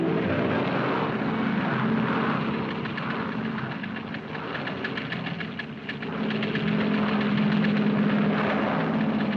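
A propeller airliner of the late 1940s in flight on a trip bound for New York, its engines giving a steady, loud droning hum with pulsing throb that holds throughout, no voices.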